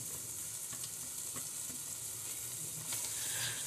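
Almonds and cashews fry in masala in a pan for chicken white karahi, giving a steady, close sizzle with occasional soft scrapes of stirring throughout.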